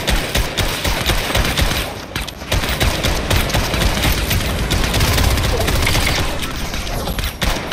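Dense, continuous bursts of automatic gunfire and explosions fill a Fortnite trios match, rapid shots overlapping loudly throughout with little pause.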